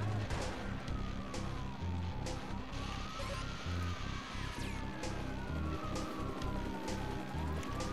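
A police car siren wails up and down in the Watch Dogs video game, steady and moderately loud over a rhythmic thumping of game music and engine noise.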